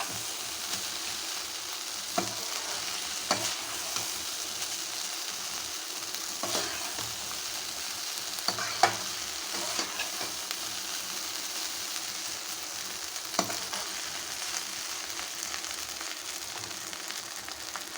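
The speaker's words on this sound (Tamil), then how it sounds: "இது நல்லா ஃப்ரை ஆகட்டுங்க இந்த ஃப்ரைட் ரைஸு" Beef fried rice sizzling and frying in a hot pan, with occasional scraping stirs and clinks of a spatula against the metal.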